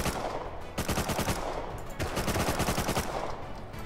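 Rapid bursts of automatic gunfire in the survival video game Rust, loud and close, firing in repeated volleys with brief pauses between them.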